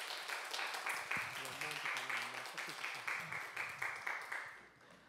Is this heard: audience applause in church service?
yes